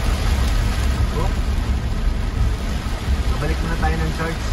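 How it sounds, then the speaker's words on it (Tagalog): Heavy rain pours down just outside an open back door, a dense, constant roar of water hitting surfaces, with a voice briefly rising over it. "tingnan nyo po kung gaano kalakas ang ulan"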